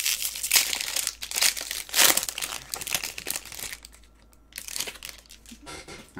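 Plastic wrapper of a 2024 Topps Series 1 trading card pack crinkling and tearing open, close-up bursts of crackling over several seconds, then quieter shuffling of the cards.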